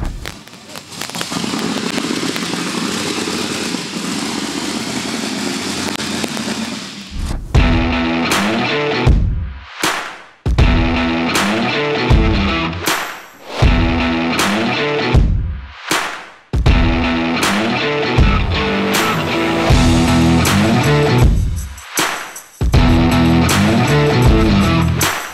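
A 1965 Chevy C10 with a Dart block and Dart heads running loud and raw, a dense roar at first that breaks into choppy, rumbling bursts and revs with short gaps between.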